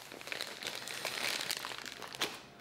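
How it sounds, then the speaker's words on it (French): Delivered package being unwrapped by hand, with steady close crinkling and crumpling of plastic or paper wrapping and a sharper rustle near the end. "Alors, déjà on va le déballer"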